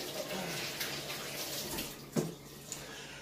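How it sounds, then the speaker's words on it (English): Water runs from a tap while flour-coated hands are rinsed and wiped during home cooking of deep-fried catfish, a faint, steady splashing with a couple of brief louder splashes. "I basically just wiped them, use the water and wipe them off"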